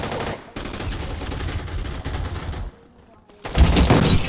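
Automatic machine gun fire in a gun fight arena video game rattles in dense continuous bursts, breaks off for a moment of near silence, then resumes loud and close.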